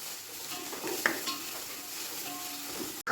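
Onions sautéing in a pan for chicken biryani, a steady soft sizzle with utensil scrapes and a clink or two of stirring, continuous and close.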